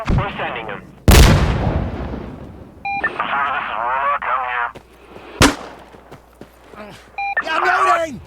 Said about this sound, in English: Tell them to strafe this location now!